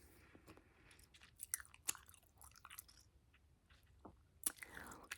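Close, wet gum chewing with soft smacks and irregular crunchy clicks, quiet overall with a few sharper snaps, heard on its own in a hushed setting.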